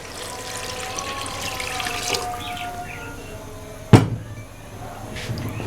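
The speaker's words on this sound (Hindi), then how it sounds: "ये 1 लीटर मैं इसमें पानी डाल रहा हूँ।" One litre of water is poured into a pot of fried chicken while making chicken haleem at home: a steady running pour, then a sharp splash, with no one talking.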